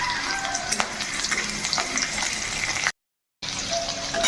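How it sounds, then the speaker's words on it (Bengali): Chopped garlic and green chilli fry in white oil with a steady, close sizzle and a few stirring clinks, then a brief break before the sizzling picks up again. "তো প্রথমেই এখানে রসুন কুচিটা দিয়ে দিচ্ছি। এখন দিয়ে দেব কাঁচা লঙ্কা।"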